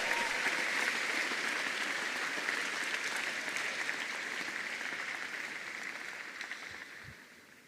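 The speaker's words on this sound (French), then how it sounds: "Acclamez fort le Seigneur." A church congregation applauds loudly and continuously, a dense, even wash of clapping that slowly fades toward the end.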